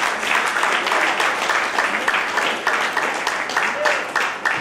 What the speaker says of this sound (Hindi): एक बार जोरदार तालियों से स्वागत करते हैं।